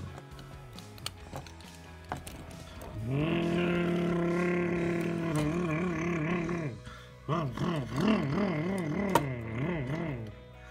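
The Monster Mutt monster truck's engine, warmed up, bursts into a loud sustained roar after a quiet idle, then wavers and surges in rhythmic revving pulses before settling back down.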